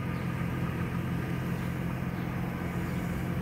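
A 2004 Chevy Trailblazer LS with the 4.2 engine idles steadily just after starting, a low, even rumble that holds constant throughout with no revving.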